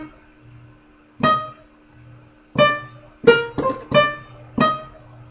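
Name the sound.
first notes of a song played staccato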